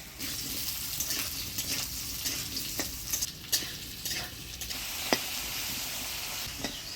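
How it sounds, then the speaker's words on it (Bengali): Potatoes and pointed gourd frying in a pan under a soft continuous sizzle, with scattered light clinks and scrapes from stirring, fairly quiet and close, with no speech. "এবার আলু আর পটলটা ভেজে নেব।"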